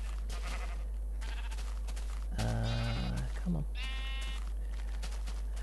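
A sheep in the video game Minecraft gives two or three bleating cries, fairly loud and close, under a steady low hum, while someone talks briefly.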